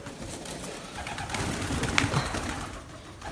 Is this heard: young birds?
yes